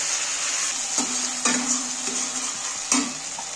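Ground mustard and poppy seed paste fries in a hot kadai for an egg curry, a steady sizzle broken by several distinct clinks and scrapes of a spoon against the pan, close up with no voices.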